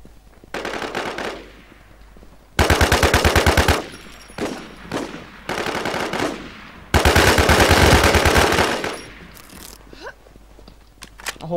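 Bursts of rapid automatic gunfire in the Infestation PvP game on the Rocky Ford map, loud and close, firing in several sustained strings with short gaps between them, plus a few scattered clicks near the end.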